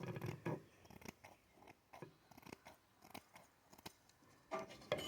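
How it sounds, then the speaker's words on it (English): Scissors snipping fresh, undried pine needles into tiny pieces for tea: quiet, close, irregular crisp clicks and snips repeating in quick bursts, with no voices. "you can just take scissors and cut small pieces off"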